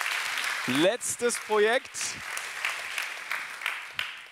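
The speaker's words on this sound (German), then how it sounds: "auch für dich noch ein Applaus" Audience applause at a Jugend forscht regional science competition award ceremony in Augsburg, 2024: someone speaks briefly over the start, then a broad, sustained wash of clapping fills the hall.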